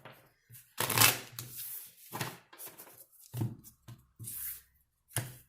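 A tarot deck is shuffled close up in a quiet room, several crisp riffling bursts separated by short pauses, with soft card taps between them.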